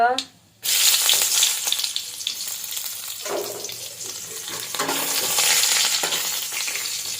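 Dried red chilies and tempering spices drop into hot oil for a drumstick-leaf curry. After a brief lull, a loud, continuous close-up crackling sizzle follows with stirring, and no voices are heard.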